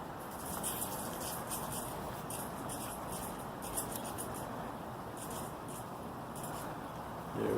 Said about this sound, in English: Now we should see the sprinklers turning on.